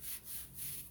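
Terry towel fabric rubs in three quick back-and-forth strokes across the back of a Chalk Couture chalk transfer, giving a soft, faint, breathy swish with no talk.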